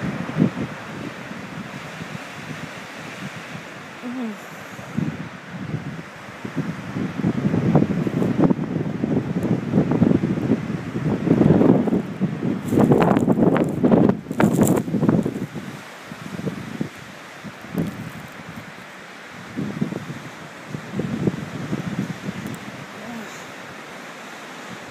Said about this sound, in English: Goodness, look how strong that wind's blowing.